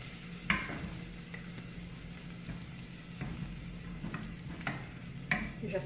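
Garlic and onion sautéing in a pan for a bolognese lasagna, a quiet steady sizzle with occasional utensil scrapes and taps against the pan, no talking.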